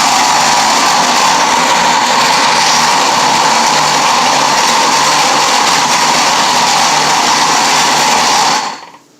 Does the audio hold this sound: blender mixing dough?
yes